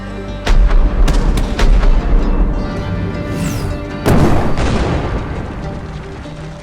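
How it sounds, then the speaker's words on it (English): Cannon fire from a concealed Confederate artillery battery on a heavily forested island: several loud, deep booms land in an irregular sequence, each rolling out into rumbling echo and debris noise. "cannon fire rang out from the heavily forested island"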